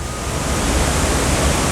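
Waterfall in Thailand roaring steadily as a dense, continuous wash of falling water, loud and close with no pauses, with no voices over it.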